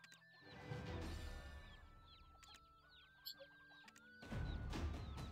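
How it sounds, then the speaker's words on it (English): Chickens cluck in short bursts in the video game Black Desert Online, heard against a steady tonal game soundtrack with a few sharp clatters. "Chickens! They love chickens here."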